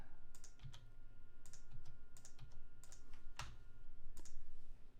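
Computer keyboard typing during an EarthBound livestream, with irregular bursts of clicky keystrokes scattered across the clip, fairly close and moderately quiet over low background hum.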